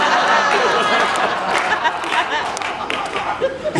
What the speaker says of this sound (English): And Tony's applauding